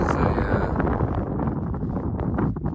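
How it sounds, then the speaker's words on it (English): Strong wind buffeting a microphone outdoors near Jurien Bay and the Pinnacles, a loud continuous rumbling roar with gusty swells throughout. "Windy now though"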